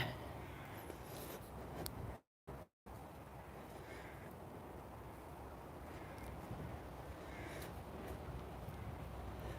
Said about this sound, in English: Don't know if you can hear those crows